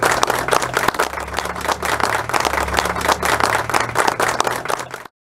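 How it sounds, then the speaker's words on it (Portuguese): A crowd gives a final, sustained round of applause at an outdoor memorial gathering, dense steady clapping with a low hum underneath, ending abruptly. "E neste local, a última salva de palmas."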